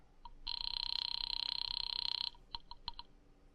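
A telephone rings as a sound effect in an old radio drama, one long continuous electronic ring followed by a few short clipped bursts, clear and close against a quiet background.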